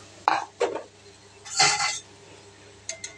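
A spoon stirs a Bengali fasha fish curry in a pot just after water is added, making a few short metallic clinks and scrapes with pauses between them, fairly close, with no talking.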